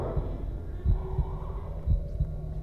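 Heartbeat sound effect from the video game Little Nightmares: deep, muffled thumps in double-beat pairs repeat at a steady pace over a low background hum, with no voices.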